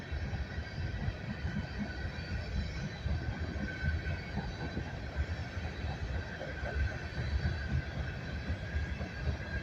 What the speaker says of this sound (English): This is a long train here.